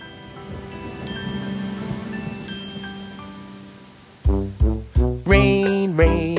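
Steady light rain patters softly as a sound effect within a children's nursery song, rising a little and then fading before a bright musical passage with sung notes takes over.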